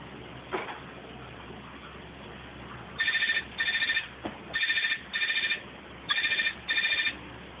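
Telephone ringing in a house, a loud electronic double-burst ring repeating three times in steady pairs over faint room noise.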